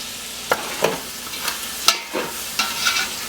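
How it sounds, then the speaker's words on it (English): Diced onions, carrots and celery sweat in a pot for potato soup, a steady soft sizzle broken by several sharp scrapes of stirring at irregular intervals, close and moderately loud with no talking. "we're going to sweat these vegetables off for a few minutes until the onions become translucent"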